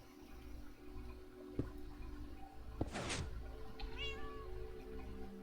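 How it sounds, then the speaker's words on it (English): A pet cat meows once in a short rising call, then a quieter chirping meow follows, heard over a low background hum in a room with a Minecraft game session running. "No, that's my cat."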